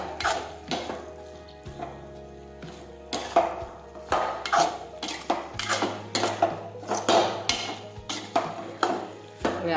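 A spoon scrapes and knocks against a pan while okra curry with garlic chutney, turmeric and cumin is stirred, giving irregular metallic clinks and scrapes over a low steady cooking hum.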